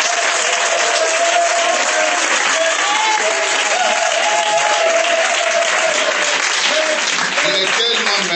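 A church congregation applauds steadily and loudly throughout, a dense sustained wash of clapping with crowd voices and cheers mixed in.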